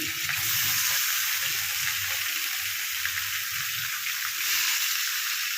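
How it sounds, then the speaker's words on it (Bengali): Chicken sizzling in a pan for a mustard-style chicken dish, a steady, loud, continuous hiss and crackle of hot oil with no pauses and no voices. "এটা একটু ভালো করে ভেজে নিতে হবে।"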